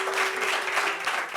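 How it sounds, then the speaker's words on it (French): Studio audience applause at a French-language entertainment show on Réunion, a steady dense wash of clapping filling the whole short moment, with a faint held tone underneath. "Applaudissements pour lui, s'il vous plaît."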